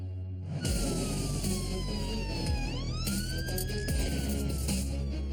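A supersize ambulance siren wailing loudly and close, its pitch sweeping up and down between tones over an engine rumble.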